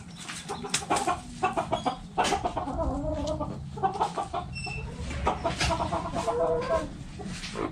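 Farm chickens cluck and squawk continuously in a busy flock, close and lively, with overlapping calls over steady background noise.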